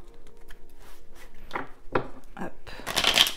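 A deck of tarot cards is shuffled by hand at close range in several short, rustling riffles, and the last burst is the loudest.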